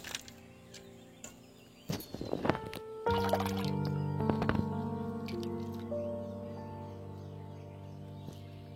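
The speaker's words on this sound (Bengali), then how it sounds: "বাঁধাকপিগুলো আমি ধুয়ে তুলে নিচ্ছি।" Cabbage leaves being washed in water, with splashing, dripping and trickling sounds and clattering handling noises, moderately close and without talk.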